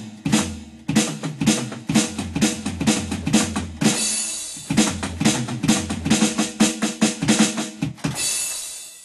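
Drums played with one arm make busy fills with rapid, rumbling double bass kicks and crashing cymbals, loud and driving, with brief pauses between bursts.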